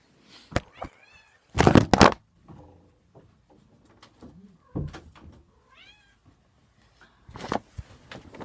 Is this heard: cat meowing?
yes